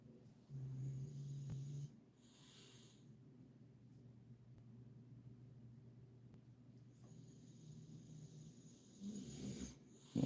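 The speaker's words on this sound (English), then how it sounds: "Dog's snoring well." A dog snores softly nearby, a low rhythmic rasping breath that rises and falls in slow cycles against a quiet room.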